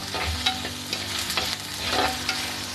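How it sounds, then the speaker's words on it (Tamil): Onions sauté in a pan after tempering spices for a prawn and bottle gourd curry, a continuous sizzle broken by repeated scraping stirs of a spatula, close and moderately loud. "வெங்காயம் போட்டு நல்லா வதக்கிக்கோங்க."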